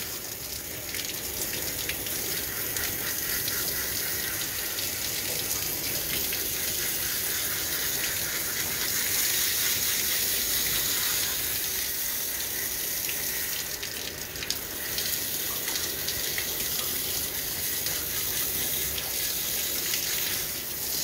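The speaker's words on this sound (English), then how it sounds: "I'm basically just trying to rinse off everything as quickly as I can." Running water rinses a dog during a creative grooming session, a steady close gushing like a faucet or sprayer that flows unbroken for the whole stretch with no speech.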